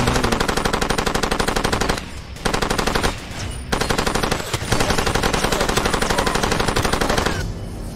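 Turret machine gun fire in Far Cry 2, loud sustained bursts of rapid shots broken by short pauses, close and harsh, continuing for several seconds with no talk.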